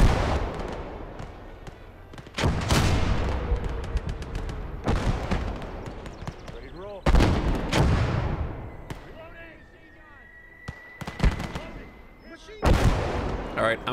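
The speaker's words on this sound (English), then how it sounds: "We got a little tank crossfire action here." Tank crossfire and gunfire in a World War-style hedgerow strategy video game: repeated loud, sharp cannon blasts and gunshots with booming tails at irregular intervals, over steady background battle noise.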